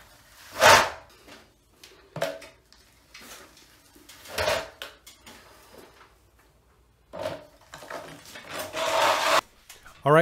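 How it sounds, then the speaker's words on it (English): Smoothing blade scraping joint compound across a ceiling repair in several separate swipes, each a rasping scrape of varying length with pauses between, close by and moderately loud. "I'm going to go over this ceiling repair one more time with the smoothing blade"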